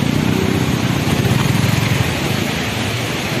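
A vehicle engine runs with a steady low drone beside the continuous roar of Panchakanya Waterfall, close and fairly loud, with no clear talk over it.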